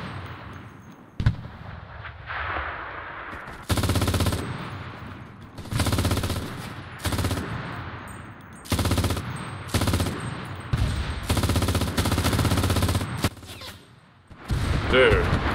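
MG42 machine gun fire in the WWII shooter game Enlisted, loud sustained bursts of rapid automatic shots repeating every second or two, with brief pauses between bursts and a voice talking in the gaps.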